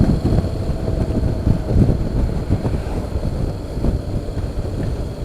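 Wind buffets the top of a rider's helmet on a 2017 Honda X-ADV scooter, a loud, close, continuous low rumble and roar that keeps pulsing unevenly without letting up.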